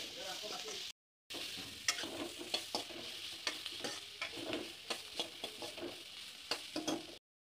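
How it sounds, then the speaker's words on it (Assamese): A spoon stirs and scrapes food frying with turmeric in a pan, with a steady sizzle and repeated clinks and scrapes at close range, without talk. "লৰাই ল'ম"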